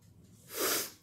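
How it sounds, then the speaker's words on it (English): A single sneeze, close and fairly loud, bursts out about halfway through after a quiet breath, then fades quickly. "Oh, I didn't expect to sneeze."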